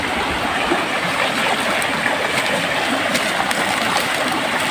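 Steady rushing of stream water flowing close by, a continuous broad wash with no pauses and no talking.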